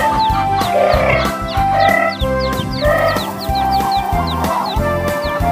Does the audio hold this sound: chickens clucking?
yes